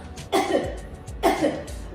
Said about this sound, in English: Cough again for me 2 more times.